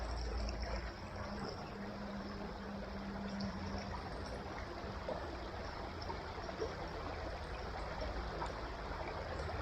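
Steady broadband rush of a stream flowing outdoors at a fishing spot, continuous and fairly loud throughout with no talk.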